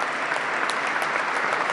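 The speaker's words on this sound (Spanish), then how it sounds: "Todo el Salón Azul aplaude a nuestros compañeros legislativos" Legislators in the Salón Azul of a national legislature applauding, a dense, continuous wash of many hands clapping at once, loud and sustained throughout.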